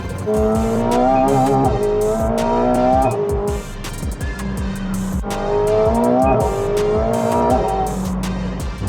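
A McLaren 750S accelerating hard with wheel spin and turbo spool, its engine note climbing through repeated rising pulls with brief drops between shifts, loud and close, with tire noise under the roar.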